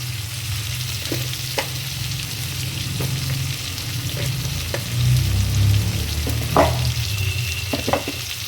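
Masala frying in a pan for an Andhra-style brinjal curry, a steady close sizzle with occasional sharper crackles and spoon stirs, rising a little louder midway.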